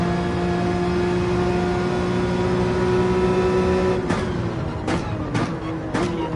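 Racing car engines in Gran Turismo 7 hold a steady, loud droning whine with strong harmonics, then several sharp shifts and revving bursts break the tone toward the end.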